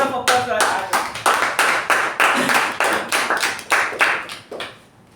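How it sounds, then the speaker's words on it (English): A meeting audience gives the sergeants a round of applause, a run of sharp, regular claps at a steady brisk beat, close and loud, fading out near the end. "let's give a huge, thunderous huge round of applause for our sergeants."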